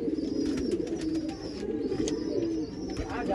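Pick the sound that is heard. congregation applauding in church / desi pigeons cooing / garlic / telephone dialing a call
desi pigeons cooing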